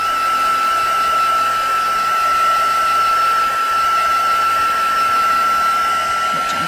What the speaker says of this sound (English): So let's get a heat gun out and do a good dry.